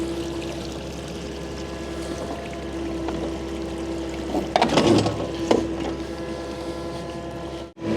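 Water drains from a pipe excavation in a steady broadband rush and gurgle, with louder splashing pulses in the middle before it cuts off abruptly at the end. No one talks.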